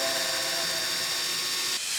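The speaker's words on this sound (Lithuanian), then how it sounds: "Pirmiausia, turime išgręžti kelias skyles" Steady high whine of a power drill boring holes in perforated sheet metal, close and continuous for two seconds with a brief dip near the end and no talk.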